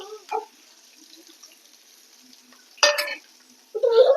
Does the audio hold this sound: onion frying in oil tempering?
yes